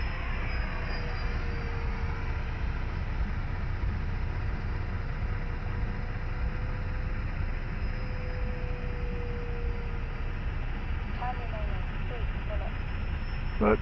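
E-flite Habu STS radio-controlled jet flying at roughly half throttle, a steady whooshing hum of the ducted fan that stays fairly even, with a faint whine and a slight pitch drift in the middle.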